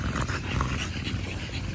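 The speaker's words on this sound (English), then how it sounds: "that is a great looking dog" A dog at a kennel pants steadily at close range, a continuous breathy rasp with no clear pauses, and nobody speaks.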